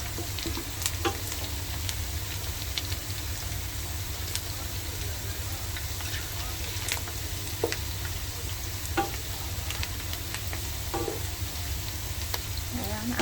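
Onions frying in a pan for chicken curry, a steady close sizzle throughout with occasional sharp clicks of stirring.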